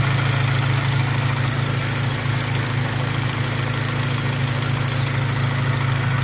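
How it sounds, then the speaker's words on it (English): A Honda Civic Type R (EP3) engine idles steadily with a constant low rumble and a whirring radiator fan layered on top, close and unchanging throughout, while warming up. "The engine's on, just waiting for it to get warm, and the fan's kicking"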